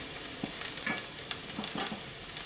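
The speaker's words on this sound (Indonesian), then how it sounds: "Aku tumis bawangnya sampai coklat gitu dan baunya harum." Onions sauté in a hot pan for a chicken mushroom noodle dish, browning with a steady close sizzle and frying crackle. Soft stirring scrapes come through at intervals, and no one speaks.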